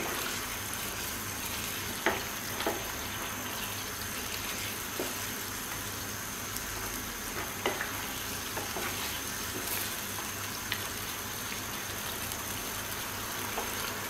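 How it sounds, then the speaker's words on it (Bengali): Mutton curry with spiny gourd frying on a raised flame as garam masala powder is stirred in: a continuous, even hiss with a few faint scattered spoon clicks, no voices. "গরম মশলার গুঁড়োটা সাথে মিশিয়ে দিলাম"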